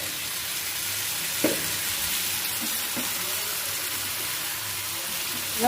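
Mixed vegetables sautéing in a pan make a steady, fairly quiet sizzle throughout, with a few soft knocks of a stirring spoon scattered across it.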